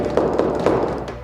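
Steady knocking on a door in a Turkish drama setting, a few dull raps spaced evenly, close and fairly loud with no voices over them.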